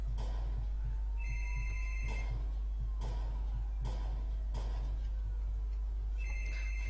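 Telephone ringing in a Mafia 2 scene: a steady hum underlies repeated electronic ring bursts in regular pulses, with a couple of higher trilling tones at the start and end, moderately loud and without speech.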